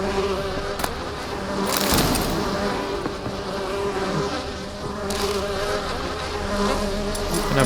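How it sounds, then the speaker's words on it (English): Steady insect buzzing like a swarm of bees, continuous and fairly loud, with a few sharp clicks and bursts over a dense droning background; bees in The Witcher 3: Wild Hunt. "Can I burn these bees?"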